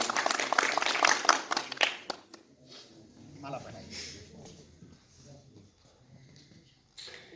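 Applause from a crowd at a National Youth Party convention in a Srinagar hall, loud and dense for about two seconds before quickly dying away into scattered murmuring and voices.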